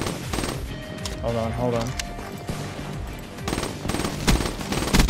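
Rapid bursts of automatic gunfire in Call of Duty crackle loudly in several volleys, with a player talking over and between the shots.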